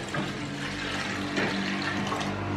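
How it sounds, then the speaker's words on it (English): Water pouring steadily into a container for an aloe vera mixture, a continuous close splashing stream with no speech. "So we're gonna be putting in water."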